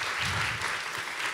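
Brief burst of steady audience clapping greeting a guest professor at a panel talk, dense and uniform, moderately loud with no voices over it.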